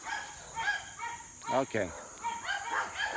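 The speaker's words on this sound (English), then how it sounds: "Oh, there are some dogs down there." Dogs bark from somewhere below in the Philippines, a string of sharp barks with one louder burst in the middle, mixed with outdoor background noise while a person briefly speaks.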